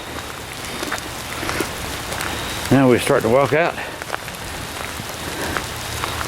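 Steady rain falls outdoors at a cemetery in spring, a constant soft hiss of drops throughout, while someone speaks briefly in the middle.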